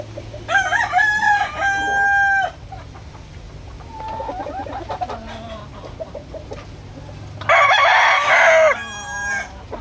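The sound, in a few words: rooster crowing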